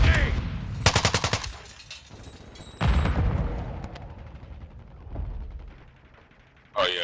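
Automatic gunfire in the video game Warzone's zombie royale mode, several rapid bursts of close shots separated by pauses, with a final burst at the end and players talking in between.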